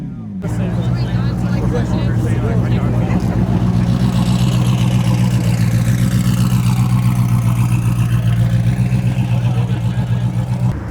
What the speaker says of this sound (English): Rich Lambo guy over here revving the SV for the boys